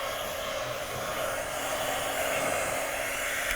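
A hot air blower of the hair-dryer kind, used while building audio amplifiers, roars in a steady, close, continuous rush of air with no talk.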